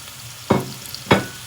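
Garlic paste and chopped onions fry in a pan for lamb paya curry. Two distinct stirring scrapes stand out over a soft, continuous sizzle.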